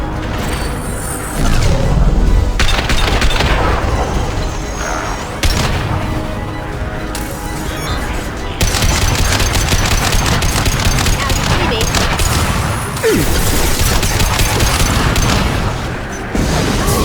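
Sustained gunfire and heavy booms from a firefight in Mass Effect 2 Legendary Edition, set on Omega, loud and continuous throughout, with mechanical clatter and a brief lull near the middle.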